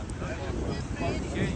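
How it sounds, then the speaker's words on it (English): Strong gusting wind outdoors in Istanbul buffets the microphone in a continuous loud rumble and roar, with a faint voice beneath it. "Weather is so good, but really, really windy."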